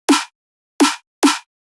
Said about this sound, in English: Then I have the fourth snare and sounds like this.